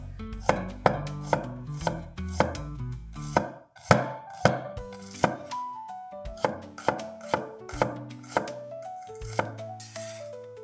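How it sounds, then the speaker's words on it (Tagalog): A knife chops garlic and then slices a halved onion lengthwise into thin strips on a cutting board, making a steady run of close, crisp knocks repeating roughly every half second. "Sa sibuyas naman, hiwain ito sa kalahati at hiwain ito ng pahaba na maninipis."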